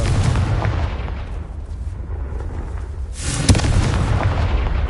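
A Confringo spell blast in Hogwarts Legacy on PS5, a loud, dense rumbling explosion that dips briefly, then surges again with a sharp crack and a roaring burst near the end.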